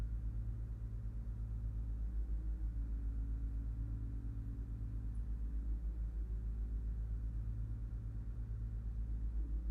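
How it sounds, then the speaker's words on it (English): Outside, sidewalk demolition and new concrete work give off a faint, steady low rumble that continues throughout, muffled and distant, with no voices. "they're doing like some demoing the sidewalks and laying new concrete on the sidewalks outside"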